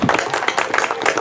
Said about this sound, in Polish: jeszcze raz wielkie brawa dla wszystkich uczestników konkursu numer 3